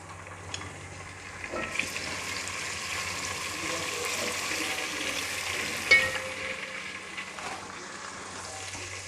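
Garlic ginger paste sizzling in hot oil in a pan, a steady hiss with a few soft stirring clatters, fairly close, with no talk.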